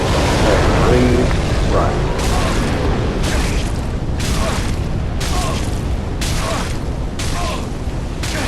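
Fire blasts striking the player in Dark Souls 3, a series of roughly evenly spaced whooshing bursts over loud, dense game noise, with a brief voice early on.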